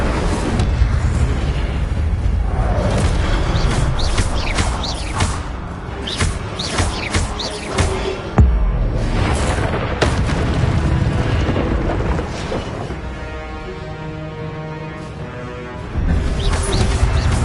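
Fiery spell blasts from an Incendio fire charm in Hogwarts Legacy, a run of loud booming bursts and crackling impacts layered over dense game combat noise, continuing almost without pause.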